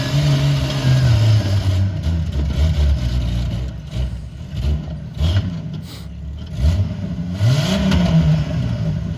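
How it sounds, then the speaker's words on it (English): A Jeep on 44-inch tires revs hard to heat its rear tires, the engine surging and dropping in repeated loud pulls with rising whine between bursts. "I heated up my back tires"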